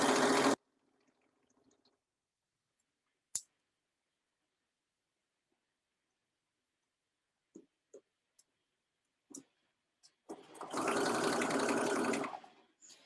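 A sewing machine stitches the neckline of a lined dress in a short, steady run near the end, after a brief burst at the start and a few scattered clicks and taps from the fabric and machine.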